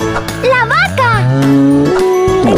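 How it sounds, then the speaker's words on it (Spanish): A cow lets out a single long, loud moo, close and alone, with no talk over it. "¡La vaca!"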